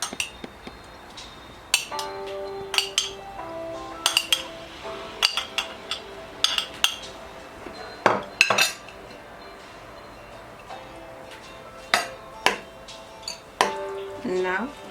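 A bowl of frozen sweet corn, green beans and peas with carrot is stirred with a spoon, giving scattered clinks and scrapes against the bowl at an irregular pace, fairly close.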